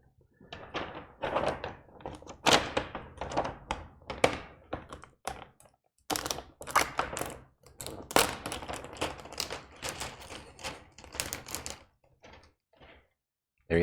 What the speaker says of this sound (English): I'm gonna hit the cut button and we're gonna watch it cut out.